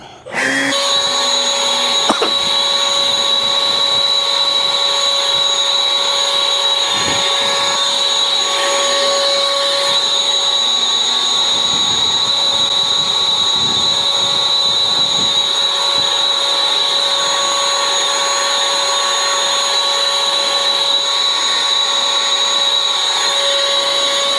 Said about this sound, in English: And I've got a backpack blower